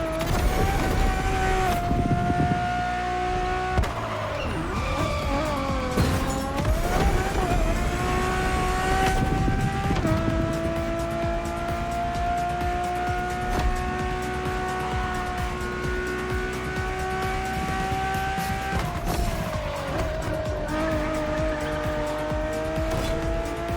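A Ferrari Enzo drives in the racing game The Crew Motorfest, its engine holding a loud, sustained high note with shifts as it changes pitch through gears, with tire noise underneath throughout.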